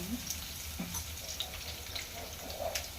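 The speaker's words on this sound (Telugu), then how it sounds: "ఇప్పుడు అదే పోపులో కొద్దిగా ఒక 10 వెల్లుల్లిగా" Garlic cloves sizzle softly in hot tempering oil for a coriander chutney, giving a faint, steady frying hiss with occasional small pops.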